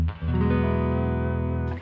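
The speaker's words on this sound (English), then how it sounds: "The first snapshot that I'm on right now is my rhythm guitar sound." A clean rhythm electric guitar runs through a Line 6 HX Stomp and rings out as a single sustained chord after a quick strum. It plays close and alone, then cuts off abruptly.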